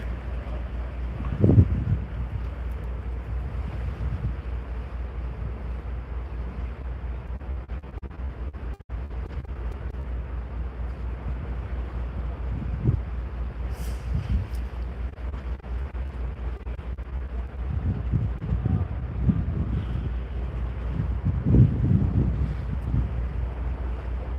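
Wind buffets the deck of the cruise ship ms Rotterdam as it sits at the dock in Amsterdam, a steady low rumbling roar with occasional stronger gusts and faint ship noise beneath.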